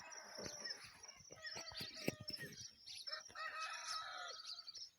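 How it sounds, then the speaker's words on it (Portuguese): A rooster crows at dawn in the Brazilian sertão, a faint, distant call rising among chirping birds and soft clucks in quiet open countryside. "Galo cantando."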